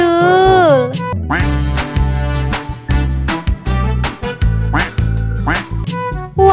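A toy duck being hauled on a toy truck gives loud, repeated quacks in a bouncy, rhythmic run that sounds almost musical, close and dominant from start to end.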